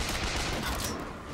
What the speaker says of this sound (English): Somebody's shooting up there.